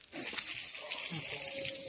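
Water pours and splashes nearby in a steady rush lasting a couple of seconds.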